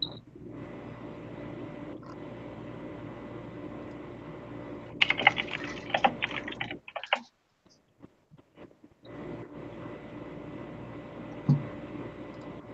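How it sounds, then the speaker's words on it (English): Keys clatter on a mechanical keyboard during a live Gunpla model-building session, with steady rapid typing that breaks into a brief pause near the middle before resuming. "I got a mechanical keyboard."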